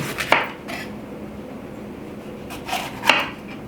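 A knife chops a bell pepper into rough bite-size pieces on a cutting board. A few sharp, separate knocks sound close up, one early and a pair near the end, with quiet gaps between them.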